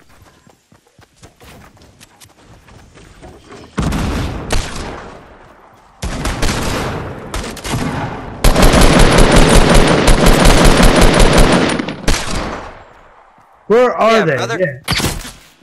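Enemy gunfire in the video game Fortnite comes in rapid bursts of loud, close shots separated by short pauses, with a person speaking briefly between the volleys.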